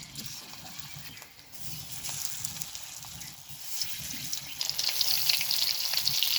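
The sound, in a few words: flour-and-egg-coated shrimp frying in oil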